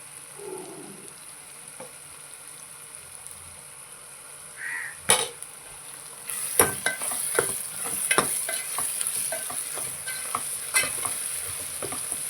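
Spices are stirred and fried in a pan, giving a soft sizzle under scattered scraping clicks of a utensil against the pan. The sound grows louder and busier in the second half.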